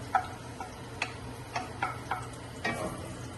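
Garlic being sautéed in a pan for a mussel soup: a quiet background sizzle broken by sharp clicks of a utensil against the pan, spaced irregularly.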